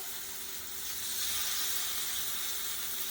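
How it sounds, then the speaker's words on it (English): Steady broadband sizzling of salmon fillets searing on a hot grill pan, close and continuous with no talk. "set them on this grill pan. Hear that sizzle?"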